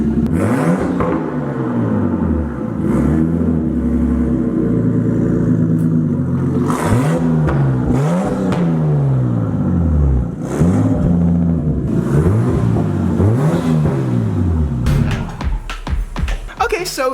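A Nissan R33 Skyline engine with a 4-inch exhaust exit revs up and down repeatedly, each loud, close sweep rising and falling, followed by a cluster of quick blips near the end.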